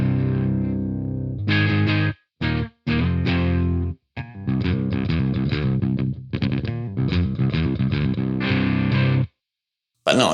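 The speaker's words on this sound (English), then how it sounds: "this is what it sounds like clean." A Jackson electric guitar played clean, with no pedal engaged, sounds close and full in bursts of chords and riffs, broken by short pauses and a final silence.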